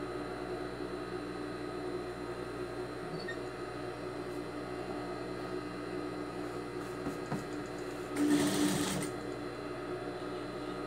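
Sewing machine stitching a handmade rug, a steady continuous mechanical whir running the whole time with a brief louder rattling burst near the end.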